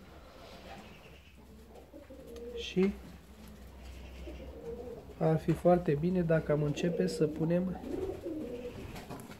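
Fancy ornamental pigeons coo softly in their loft, with low, throaty repeated calls that grow busier toward the end while someone talks over them.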